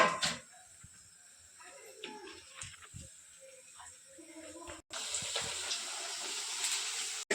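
Thin potato wafers frying in hot oil at home, a steady broadband sizzling hiss that brightens and thickens in the second half, with faint talk underneath at first.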